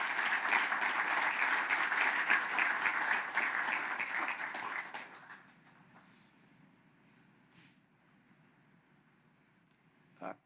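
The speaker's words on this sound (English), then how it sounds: "So one more round of applause." An audience at a nuclear-powered technology launch event claps loudly for about five seconds, then the applause fades to a few scattered claps and near quiet, with one brief louder sound at the end.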